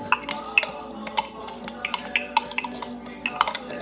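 Chopped garlic scraped into a jar makes a scatter of light clinks and taps from a utensil against glass, close and fairly quiet, with no speech.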